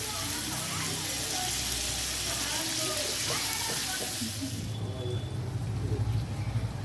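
Onions and capsicum frying lightly in a pan with a little salt: a low, continuous sizzle with faint stirring, steady and quiet, with a slight shift in tone partway through.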